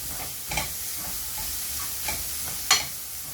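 Onions fry in a pan with a soft, continuous sizzle, broken by a few sharp clinks of a spoon stirring against the metal, close and alone.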